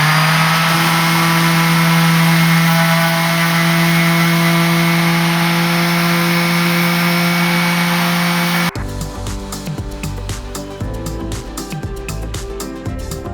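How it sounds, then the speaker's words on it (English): Electric sander fitted with an 80-grit pad works along the edge of wood trim on an RV countertop, a loud steady motor drone that cuts abruptly into rougher, scratchy grinding bursts partway through, close up with no talk. "I'm just going to use this sander. It's got an 80 grit pad on there, and I'm just going to go ahead and sand this edge down"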